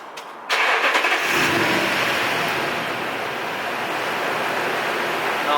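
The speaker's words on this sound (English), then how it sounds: "Here, let's turn the car on." A Toyota Tundra truck's engine cranks and fires up close by, followed by a steady, loud idle rumble that holds for several seconds with no talking.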